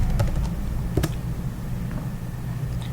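Fast typing on a computer keyboard, entering a git status command: a steady patter of close, crisp key clicks with a few sharper taps, no talking.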